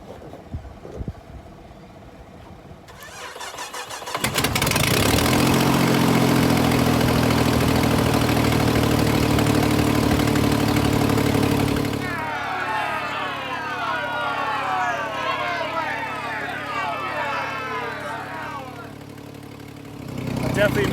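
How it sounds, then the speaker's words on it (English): A salvage auction car's engine cranks and fires for its first start, then idles loudly with a major exhaust leak, giving a harsh, rumbling, steady roar up close, with a hissy layer over it partway through. "Definitely a major exhaust leak somewhere."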